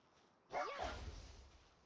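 Dire Howl, a wolf creature in the game Palworld, gives a single short, loud yelp-like bark with a falling pitch, followed by a brief low rumble that fades.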